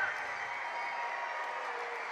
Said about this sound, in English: Wow, and listen to the crowd.